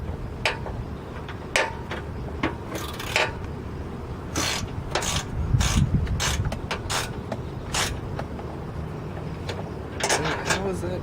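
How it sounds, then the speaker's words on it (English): A deep socket ratchet tightens a bolt on a vehicle light bar mount, giving irregular bursts of close, crisp ratcheting clicks separated by short pauses. "So I'll get out my deep socket, get out this, and I'm just gonna tighten her down all the way on that side."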